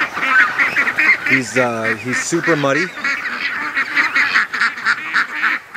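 Geese honking and ducks quacking around a swamp, loud calls that overlap with someone talking about a muddy dog, with a clear run of honks in the middle.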